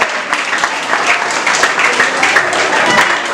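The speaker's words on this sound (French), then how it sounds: "Applaudissez Wilberson pour vous" A crowd claps and applauds steadily at a school quiz competition final, a dense wash of hand claps that stays loud and sustained throughout.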